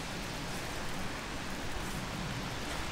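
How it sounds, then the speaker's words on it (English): Light rain easing off at a wild camp, a soft, even hiss of drops on surfaces, faint and steady with no voices. "The rain is easing off now."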